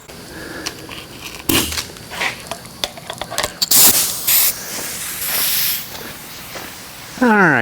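A spray gun lays epoxy primer over bare, media-blasted metal on a 1970 El Camino, giving intermittent hissing bursts with one longer steady spray in the middle, close and fairly loud amid clattering handling noises.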